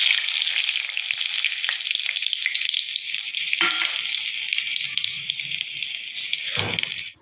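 Whole spices (cinnamon, fennel and stone flower) crackle and fry with chillies in hot oil for a homemade kuzhambu masala, a steady bright sizzle throughout with a brief clatter near the end, no voices.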